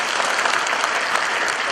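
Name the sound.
congregation applause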